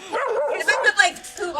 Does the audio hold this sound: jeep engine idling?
no